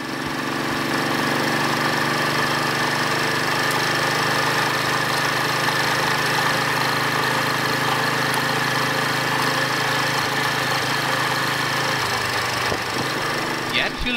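A Royal Enfield Bullet 350 single-cylinder motorcycle engine drones steadily while riding at speed in high gear, loud and continuous with a throbbing hum and wind rush throughout.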